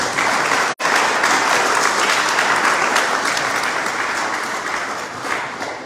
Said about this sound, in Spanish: Por favor, un aplauso para el señor Augusto.